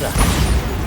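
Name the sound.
Bombarda spell blast in the video game Hogwarts Legacy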